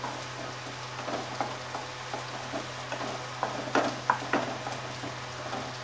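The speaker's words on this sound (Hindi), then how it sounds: "मैंने लाल खड़े मिर्च लिए थे और तेज़पत्ता, इन्हें पका लेती हूँ।" Dry red chillies, bay leaf, chopped ginger and green chilli fry in a pan for dal tadka, giving a steady soft sizzle with a few brighter crackles and stirring scrapes near the middle, over a low constant hum.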